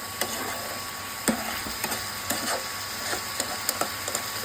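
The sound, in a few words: tomatoes being sautéed in a pan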